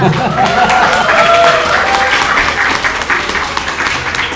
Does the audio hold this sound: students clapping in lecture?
yes